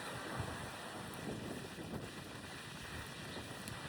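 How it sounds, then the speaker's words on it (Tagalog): Steady rushing wind buffets the microphone in a continuous low roar, fairly faint overall, with no voices. "Sobrang lakas ng hangin."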